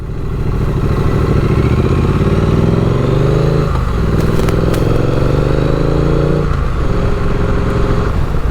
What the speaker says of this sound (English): On any beautiful day in Philadelphia, the sound of dirt bikes is very prevalent.